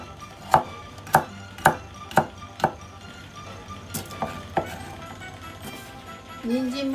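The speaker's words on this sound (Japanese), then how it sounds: "じゃあ半分に切って扇形にします。" A kitchen knife chopping an unpeeled, washed carrot into fan-shaped pieces on a board, about nine crisp evenly spaced cuts that slow and soften toward the end, close by and fairly quiet.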